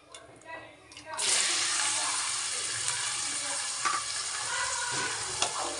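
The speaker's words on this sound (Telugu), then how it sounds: "మనం తరిగి పెట్టుకున్నటువంటి ఉల్లిపాయ ముక్కల్ని యాడ్ చేస్తున్నాను." Chopped onion pieces hit hot oil in a kadai, bursting into a loud, steady frying sizzle that holds close and constant after a brief quieter start.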